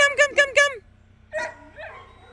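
A puppy gives three quick yips in a row, then a short pause and a couple of softer whining yelps over a low steady hum.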